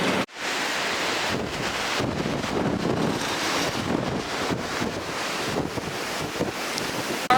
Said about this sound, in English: we're at the Skrotakur Black Sand Beach, if you can hear me. Lots of waves, black sand.